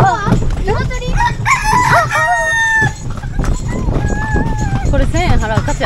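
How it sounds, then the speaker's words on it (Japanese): A rooster crows loudly and close on Gili island in Indonesia, a few drawn-out calls mixed with clucking, while people chat over it amid busy outdoor street noise. "これは 鶏。"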